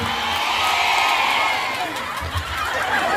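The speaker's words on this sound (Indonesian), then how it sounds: "Tepuk tangan buat Perhamus Bekasi, luar biasa." Crowd at a Maulid Nabi religious gathering in Bekasi, cheering and applauding together in a loud, sustained wash of claps and shouts, with voices mixed throughout.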